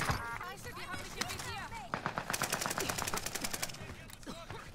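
PPSh submachine gun firing in Call of Duty: Warzone Pacific on Rebirth Island, a rapid rattling burst of shots in fast even rhythm, moderately close, with players talking in German before and around the firing.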